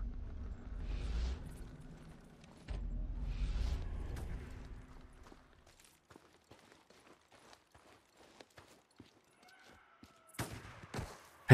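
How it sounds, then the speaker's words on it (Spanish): Gunfire in the video game Days Gone comes as scattered sharp shots, mostly faint and distant, with a louder close burst near the end after two longer rumbling stretches. "Disparos."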